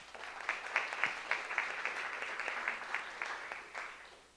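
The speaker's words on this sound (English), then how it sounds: "Round of applause for them." A school board of education meeting audience gives a brief round of applause, fairly faint and somewhat sparse, with individual claps audible as it tapers off.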